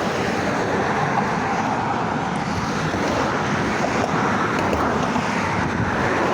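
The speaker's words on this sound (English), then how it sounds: "This traffic is fucking loud." Loud, continuous city road traffic near a riverside in Portland, a steady broadband roar of passing cars and engines filling the whole stretch with no talk over it.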